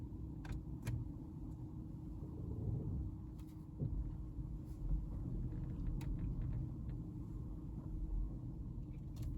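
A VW ID3 electric car drives, heard from inside the cabin as a quiet, steady low rumble of road and motor noise with a few faint clicks and rattles. There is no engine note.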